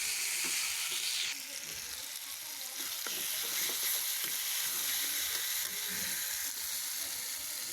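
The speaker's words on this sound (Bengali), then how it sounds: "পেঁয়াজটা বেশি দিছি। তো এগুলো আমি ভাজা ভাজা করে নিব।" Onion, green chilli, tomato and ginger paste frying in a pan, giving a steady, loud sizzle that runs throughout with occasional stirring scrapes and no talk.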